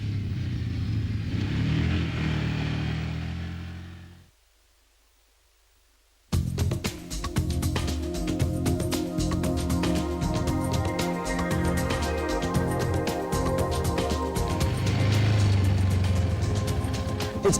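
ATV engine running as the vehicle is ridden, a steady mid-pitched motor drone that cuts out into a short silence and then resumes louder and continuous, close to the microphone.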